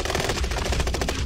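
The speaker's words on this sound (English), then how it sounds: "Nice shot, Rec." Rapid gunfire in the video game Call of Duty Warzone, a loud, close stream of shots packed tightly together and running without a break.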